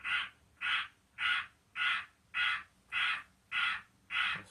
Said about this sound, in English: Goddamn bird right there.